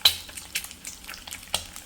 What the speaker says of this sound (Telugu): ఇప్పుడు మిక్స్ చేద్దాం.